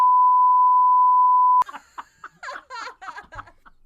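A loud, steady censor bleep tone runs alone for about a second and a half, covering cursing, then cuts off abruptly as people talk and laugh.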